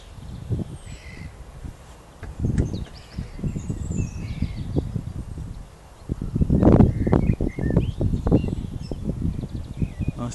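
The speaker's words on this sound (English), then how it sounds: "Nice to hear all the birds singing." Birds chirping and calling at Stanpit Marsh nature reserve near Christchurch, faint scattered high tweets over louder rustling and footsteps from a walk outdoors.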